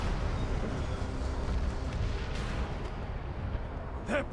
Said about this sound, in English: We're also getting pounded by their cannons.